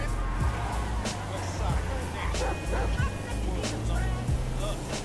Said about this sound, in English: I like your dog, homie.